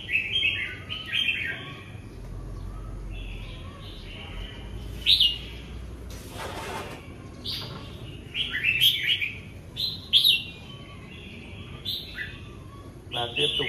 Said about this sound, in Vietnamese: chim phơi nắng nó chỉ nghe tiếng hót cho nó phải không nhìn được thấy nhau